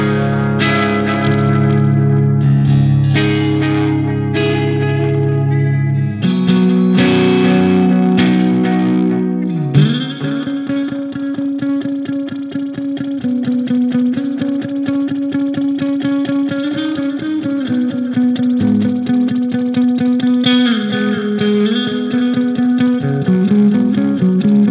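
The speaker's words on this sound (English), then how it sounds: "now I have a spring reverb, I have a different delay, and the delay is set to in time with the song" Electric guitar through a Mooer Prime M2 effects unit, drenched in springy reverb with rhythmic delay repeats timed to the song, playing steady chords and a sustained melodic line, loud and alone with no talking.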